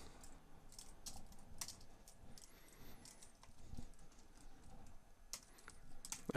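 Soft, irregular typing on a computer keyboard clicks along close by and fairly quietly as a note is entered, with bursts of keystrokes and brief pauses.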